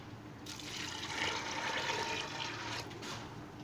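About 1.5 glasses of water pour steadily into a pot of bitter gourd and split Bengal gram for a few seconds with a broad, rushing splash, then stop abruptly, leaving a faint hiss.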